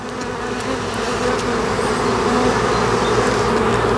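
A swarm of honeybees takes off from a shaken branch, a dense steady buzzing drone that swells slightly and holds loud and close throughout, with no talking.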